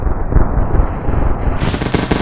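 Rapid, dense gunfire rattles continuously and loudly in the video game Melon Playground, a close, steady burst with no pauses.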